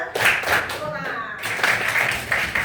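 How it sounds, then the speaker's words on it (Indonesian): Students clap together in a classroom ice-breaking clap game, a busy cluster of many hands at close range, with a voice speaking briefly in the middle. "Tepuk 1, 2, 3. Tepuk pramuka."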